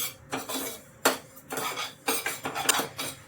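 Mustard dal roasting in a pan for pickle, with rhythmic scraping and clinking of a utensil against the pan in quick bursts, close and clear.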